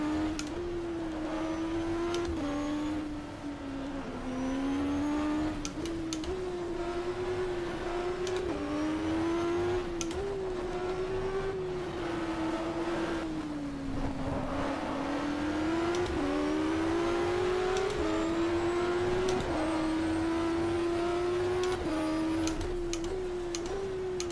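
Endurance race car engine in the GTR2 racing game at Circuit of the Americas, a loud continuous howl that rises and falls through repeated upshifts and downshifts across a lap, with ticking clicks scattered through it.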